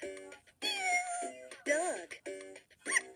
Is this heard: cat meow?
yes